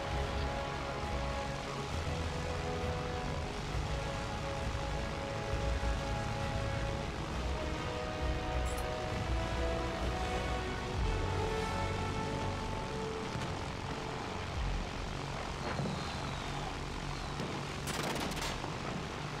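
Bomber aircraft engine droning continuously in Battlefield 1 multiplayer combat, a loud steady rumble with scattered gunfire and explosions mixed in throughout.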